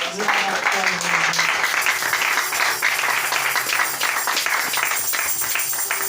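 A church congregation applauds and cheers during a French-language service, a steady crowd clapping held at an even level from start to finish, with voices mixed in underneath.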